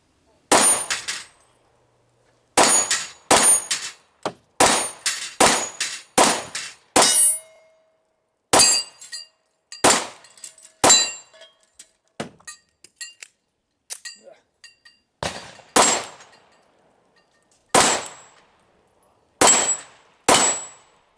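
Pistol shots from a Glock 48 or Sig P365XL ring steel targets, loud sharp cracks each followed by a bright metallic clang. They come in quick strings of several hits, separated by short silent pauses.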